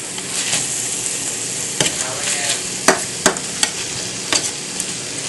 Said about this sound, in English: we're going to use half of our bowl of barbecue sauce and mix it all together